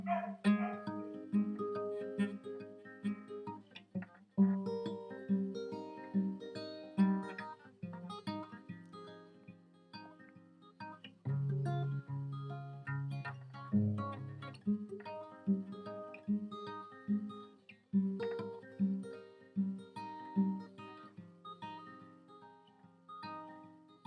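Acoustic guitar playing a plucked fingerstyle passage, a steady rhythmic pattern of picked notes and strums, close and fairly quiet, played alone.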